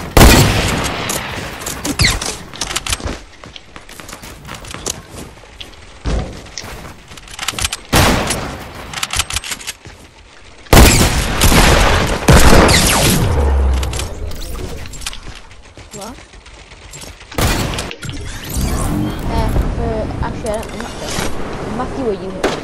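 Rapid bursts of gunfire from a shooting video game crackle in irregular volleys, loud and close, with sharp booms and pauses between bursts while players talk over the action.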